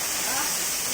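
Varanga Theerthakal waterfall roars in a dense, loud, unbroken rush of falling water, heard close for a brief moment.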